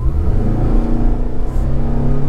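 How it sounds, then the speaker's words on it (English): A 2022 Toyota RAV4 Hybrid SUV with a CVT accelerates at full throttle, its engine holding a steady, loud droning whine with a continuous rumble from inside the cabin. "Of course, we hear the CVT transmission"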